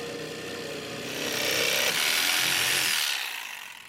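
A power saw cuts through a sheet of 1/2-inch plywood to shape a halfpipe transition, a close, loud rasping whine that swells midway and then fades as the cut finishes.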